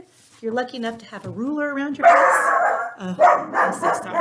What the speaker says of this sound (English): that's my dog Duke